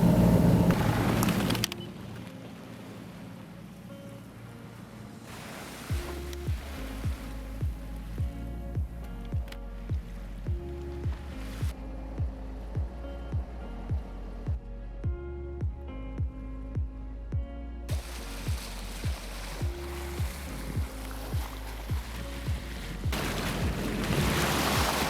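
A sailboat motoring on its engine through a calm sea off Point Conception, a steady low engine drone with a regular rhythmic thumping pulse under a soft wash of water and wind, no talk.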